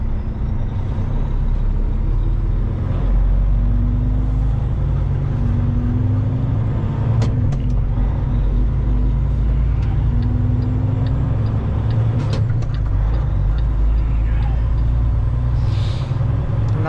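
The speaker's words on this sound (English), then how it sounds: "They're moving some cars in here" Heavy vehicles rumble steadily at a port as cars are moved from one side to the other, with loud continuous engine drone, occasional hiss and clank, and no talk.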